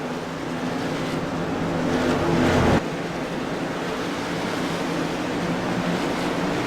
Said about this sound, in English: As the pace car brings them into turn 4